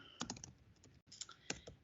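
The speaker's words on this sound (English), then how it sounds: "sorry about the typing here" Typing on a computer keyboard, quiet rapid clusters of key taps with a brief pause in the middle, close and alone with no talking.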